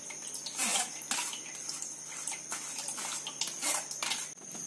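Cooking water from boiled tomato, potato and carrot poured into a pan for soup, a steady close splashing pour lasting several seconds with no talk.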